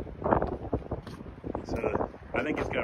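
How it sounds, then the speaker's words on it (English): Wind buffets the microphone in low rumbling gusts beneath people talking nearby. "And sorry about the wind"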